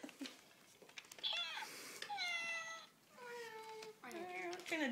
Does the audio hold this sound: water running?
no